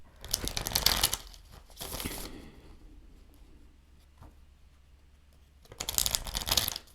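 Tarot cards being shuffled in two quick riffling bursts, a pause with faint handling noise, then another brisk shuffle near the end.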